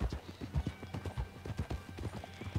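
Horse hooves clip-clopping in the video game Red Dead Redemption 2, a rhythmic trot of hoofbeats close by, with game sounds and a quiet background hum underneath.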